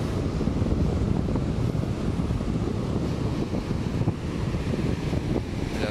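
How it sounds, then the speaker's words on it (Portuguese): Strong wind gusts on the beach at Mongaguá buffet the microphone with a heavy, continuous low rumble, while surf roars faintly underneath; no talking is heard. "Ventando bastante aqui."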